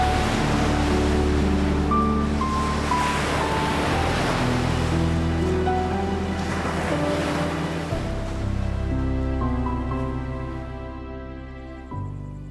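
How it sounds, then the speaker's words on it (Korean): Gentle ocean waves at a beach on Lombok wash in with soft, broad swells under sustained calm music that runs throughout and fades toward the end. "잔잔한 파도 소리를 자장가 삼아 잠을 청해봅니다."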